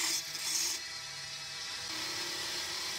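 Wood turning on a lathe for a rolling pin, a chisel shaving fibre layers off the spinning blank to make it cylindrical: a steady, hissing, scraping whir that runs continuously and fairly quietly.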